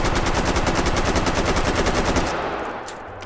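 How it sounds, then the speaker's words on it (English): An AK-101 rifle fires in full-auto in the VR shooting game H3VR, a rapid, loud, evenly spaced burst of shots that stops after about two seconds, leaving a fading echo. "We got the AK-101. The modern AK. The cool AK."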